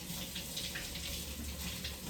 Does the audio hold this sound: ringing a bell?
no